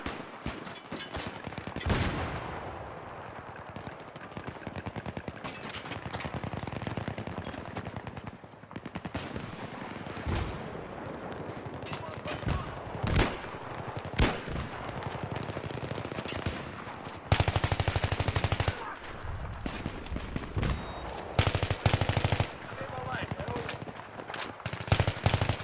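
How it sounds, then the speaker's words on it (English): Machine gun fire in Battlefield 3 on PC, sustained rattling bursts and scattered gunshots through a dense battlefield din, loud and close at times, with a voice speaking over parts of it. "Hostile machine gun."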